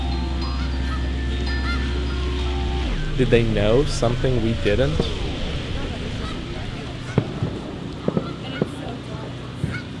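Geese honk in a few quick, moderately near calls outdoors, cut in after a low steady rumble, and a voice speaks over the calls.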